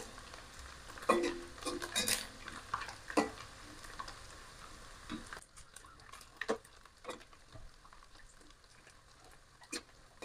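Anchovies (ikan bilis) fry in a pan with a crackling, bubbling sizzle. A few loud spatula scrapes and clinks ring out early before the frying settles into quieter, irregular pops, with no talking.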